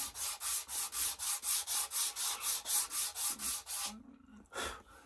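A wooden Pedersoli 2nd Model Brown Bess musket stock sanded by hand, with a steady run of about thirteen loud, even rasping strokes up close, then a brief pause and one last scrape.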